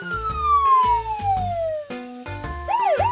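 A cheerful synth melody from an educational game with a long falling electronic tone, then a short burst of police car siren rising and falling near the end.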